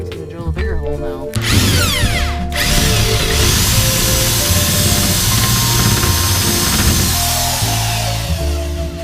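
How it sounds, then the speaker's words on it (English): A power drill bores a bigger hole through a truck camper roof for a solar cable entry, a loud close whine that starts abruptly, settles into a steady grinding drone and winds down near the end. "He's gonna drill a bigger hole now."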